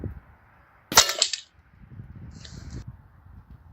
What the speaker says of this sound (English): Now that was the first shot.